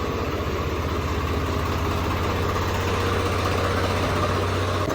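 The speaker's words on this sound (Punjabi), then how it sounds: "ਟਰੈਕਟਰ ਕਰ ਲਿਆ ਸਟਾਰਟ" A Swaraj 855 tractor engine idles with a steady low chugging rumble, loud and close, unbroken throughout.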